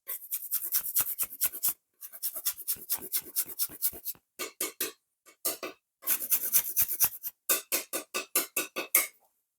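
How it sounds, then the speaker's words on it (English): Chilled chocolate is rubbed across a grater over chocolate mousse in quick bursts of sharp, close rasping strokes, broken by brief pauses between runs. "Let's grate some chocolate over it."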